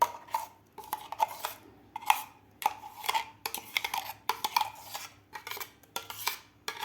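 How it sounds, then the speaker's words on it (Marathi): A spoon scrapes and taps against a kadhai while date and almond paste is scooped into it, giving a series of sharp metallic clinks and scrapes in an irregular rhythm, close and clear. "सगळी पेस्ट आपल्याला या कढईमध्ये काढून घ्यायची आहे."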